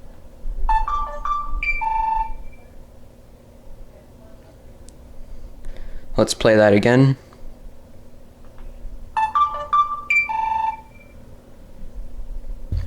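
A Samsung Comment 2 flip phone on Cricket plays its ringtone at full volume, a bright electronic melody heard twice with a voice speaking between the two plays.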